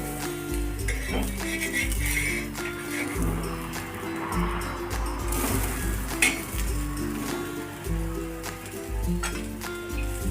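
A khauchya panachi thalipith, a Marathi flatbread, sizzles steadily in oil on a hot pan after being flipped. Occasional clinks of a spatula against the pan cut through the frying hiss.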